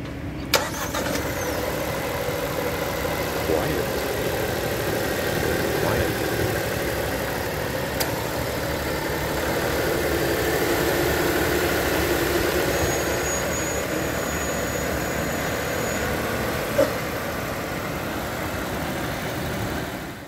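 The 1.5-litre turbocharged engine of a 2023 Proton S70 runs as a steady, even hum, heard from inside the car with a faint broadband rush and a couple of brief clicks, no talking.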